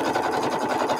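A sewing machine set to 1.4 stitches an art quilt at a fast, steady pace, giving a continuous close mechanical whir throughout with no talking.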